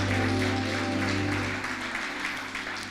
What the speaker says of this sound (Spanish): ¿Le da palmas al Rey?